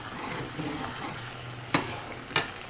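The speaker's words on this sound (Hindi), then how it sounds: "बस अब वक्त आ गया कि अब हम इसको तेज़ आंच पे जो है भुनाई करेंगे" Turnip, spinach and mutton curry fries on high heat with a steady soft sizzle, broken by two sharp scrapes of stirring near the end, close and without talk.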